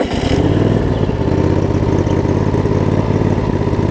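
John Deere LX279 lawn tractor engine, reported to run slightly rich and to shut off when hot, idling steadily and close with a constant low, throbbing drone and no pauses.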